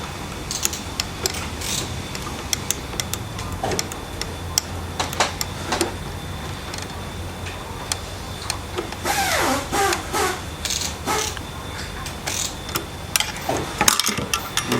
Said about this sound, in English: with the large screwdriver, remove the nut, the bolt